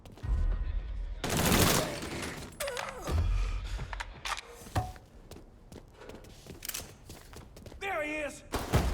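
Gunfire crackles in a Mafia 3 firefight: bursts of automatic fire and sharp single shots, with thuds and impacts and a whining ricochet-like sound near the end, mixed with shouting voices.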